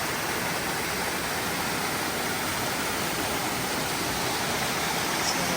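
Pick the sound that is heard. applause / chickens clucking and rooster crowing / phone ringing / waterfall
waterfall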